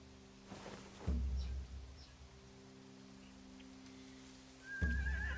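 Two short horse whinnies in The Walking Dead: The Final Chapter video game, one near the start and another near the end, with a steady droning game ambience and faint hoofbeat-like thuds between them.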